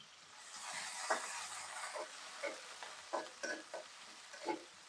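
Onion and garlic sizzle in hot oil with panch phoron and cumin while being stirred for dal, a steady frying hiss punctuated by several scraping stirs and spatters, close and unaccompanied by talk.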